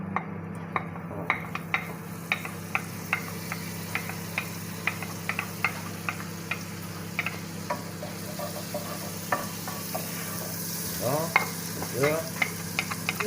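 Butter melting and sizzling in a pan while making sugared vanilla cream for doughnuts, a soft sizzle broken by a quick run of light clicks and taps, with two louder scrapes near the end and one brief spoken word.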